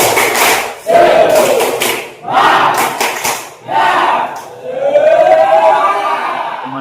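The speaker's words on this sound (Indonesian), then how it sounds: "Tepuk semangat." A school class performs the tepuk semangat, a rhythmic group clap with chanting, heard as loud bursts of clapping and voices in several phrases, ending in a drawn-out shout.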